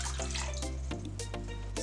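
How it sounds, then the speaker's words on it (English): Water pours steadily into a cooking pot close up, a continuous splashing and gurgling stream that shifts pitch as the pot fills. "In my pot, I am adding the water,"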